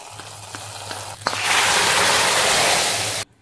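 A hot tempering of shallots, green chilies and curry leaves poured into curry erupts in a loud, dense hiss that holds steady for about two seconds, then cuts off abruptly.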